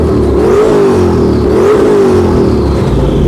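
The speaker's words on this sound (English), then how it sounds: "Oh, we've started a rev battle that we will eventually win." Car engines rev against each other in a rev battle at a car meet near the Castle Combe circuit, loud throttle blips rising and falling in steady pitch sweeps with no talk over them.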